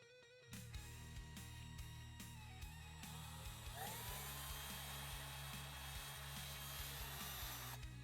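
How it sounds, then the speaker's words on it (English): A power drill whines steadily up close, spinning up and grinding continuously through plastic while drilling out holes, with small pitch changes. "now I'm just gonna drill out the holes"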